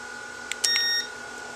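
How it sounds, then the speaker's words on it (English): A power inverter switched on through a remote relay chirps twice briefly, then sounds a short steady low-voltage warning beep before falling silent over a quiet electrical hum. "you hear the low voltage beep of the inverter as it powers up"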